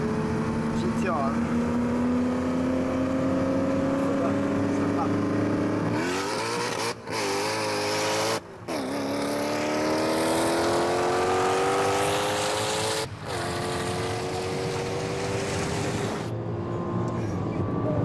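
A Koenigsegg CCR Evolution and a Nissan GT-R roar through rising, gear-shifting engine pitch, clearly heard with several abrupt cuts and a louder surge, while a voice talks over part of it.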